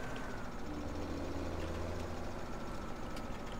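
A big tractor engine in Farming Simulator 17 idling at night, a steady low rumbling drone that stays even and continuous throughout.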